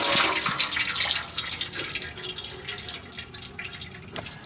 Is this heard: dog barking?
no